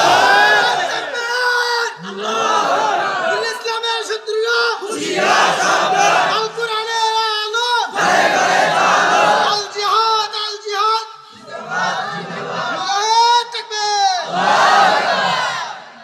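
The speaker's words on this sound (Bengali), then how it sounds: "আল্লাহকে জোরে তাকবীর দিয়ে দেখায় নাও।" A large crowd loudly chants the takbir in unison, rising in repeated roaring bursts of massed voices with short pauses between them, close and dominant throughout.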